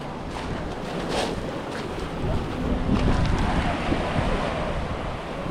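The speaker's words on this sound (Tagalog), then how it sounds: "Humahampas ang alo niya dito." Sea waves surge and crash against rocks near coastal caves by a lighthouse, a dense, continuous roar with gusts of wind buffeting the microphone, building slightly louder in the middle.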